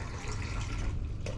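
Water pours steadily into a cooking pot holding a cup of rice, making a close, continuous rushing splash with no talking.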